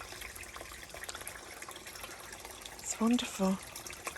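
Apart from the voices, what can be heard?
stream water trickling and running after rain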